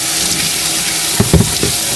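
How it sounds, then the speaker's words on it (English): Running water rinses the plastic shell of an original Nintendo console under a tap, a steady loud hiss and splash with brief bursts of heavier spattering partway through. "start to rinse it down."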